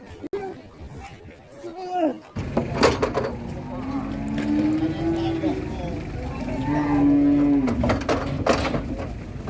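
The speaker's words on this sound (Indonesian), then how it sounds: "Ini kayaknya galak guys, yang sapi ini mau turun ya, kayak galak kayaknya." A cow being unloaded from a truck gives long, drawn-out moos over a busy crowd, with people chattering and calling throughout and occasional clanks and thumps from the vehicle.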